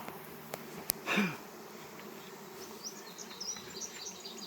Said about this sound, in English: Got a bee on me. I think I got more than one bee.